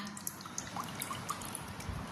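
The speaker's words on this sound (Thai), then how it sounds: "น้ำยะนางข้นๆนนะคะ เทลงไปเลยค่ะ" Thick juice squeezed from yanang leaves pours into a cooking pot for a mushroom curry, giving a quiet liquid trickle with scattered faint drips, close by and without voices.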